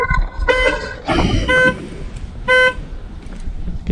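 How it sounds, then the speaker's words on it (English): Chevrolet Camaro SS car alarm honking in short bursts, several separate horn blasts with brief gaps between them, loud and close. "Guess the alarm works."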